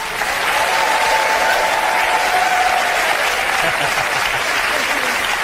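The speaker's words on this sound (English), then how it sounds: "Give them a round of applause!" Sustained studio audience applause during a live haunted-history television broadcast from the Churchill War Rooms, loud and steady throughout with a dense wash of clapping and a faint voice underneath.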